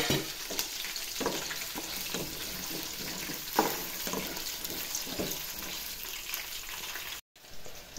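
Peanuts, dried red chillies and green chillies frying in oil for a tempering, a continuous close sizzle with irregular stirring scrapes and light clatters, no talk.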